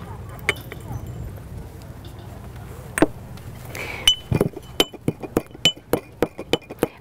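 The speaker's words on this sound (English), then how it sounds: "I need my mortar and pestle for my pepper. I'll get that going first." Pepper being ground in a mortar and pestle, sharp clinking knocks that start sparse and build into a quick regular series of pounding strikes, close by, with faint background noise.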